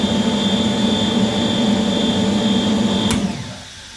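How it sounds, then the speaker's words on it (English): An industrial air compressor drones loudly and steadily, then a sharp click from its safety shutdown button cuts in and the running noise drops away into a quieter fade. "Now let's see what happens if we shut down the compressor with the safety button."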